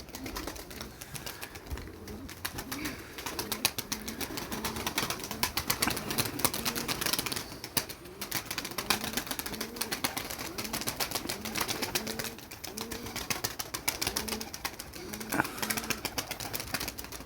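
Domestic pigeons in Eskişehir, Turkey, coo repeatedly in soft, rolling phrases against a noisy outdoor background, with occasional rustles and faint wing sounds.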